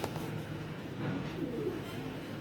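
Racing pigeons coo softly in a low, murmuring run of calls, faint and close, with no talk.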